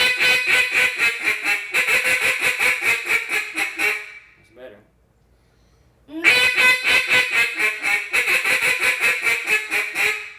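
A duck call blown in rhythmic calling practice, a long run of quick nasal quacking notes, a brief pause with a soft low sound, then another steady run of quacks, loud and close.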